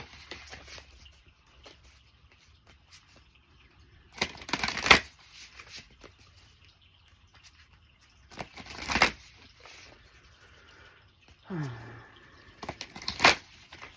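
Tarot cards riffled and shuffled in three short bursts with pauses between, close by, over a quiet room background.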